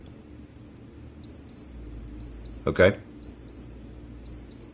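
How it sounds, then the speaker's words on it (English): A Casio W-221H digital watch sounds its alarm test, several pairs of tiny high-pitched beeps repeating at a steady rhythm, faint and close, while a voice speaks briefly over a low background hum. "That's how to test the alarm tone."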